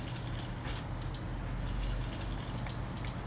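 Watering crops in the farming video game Pumpkin Days produces a steady splashing, pouring water sound with faint drips, continuous and fairly quiet throughout.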